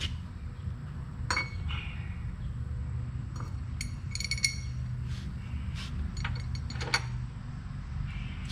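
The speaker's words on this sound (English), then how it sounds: "got us some bolts, couple wrenches here." Metal bolts and a couple of wrenches clink and rattle as they are handled in a shop while work is done on a pull-behind aerator. Sparse light metallic chinks come over a low background hum, with no talking.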